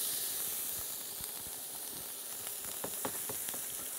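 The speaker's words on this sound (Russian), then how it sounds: "Обратите внимание, наша сковорода тефлоновая, и мы жарим нашу грудку без масла" A duck breast fries without oil in a hot Teflon pan, giving a steady close hiss and sizzle with scattered small pops and crackles, and no one speaking over it.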